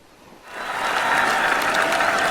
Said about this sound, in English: Crowd really enjoyed that chip from Anderson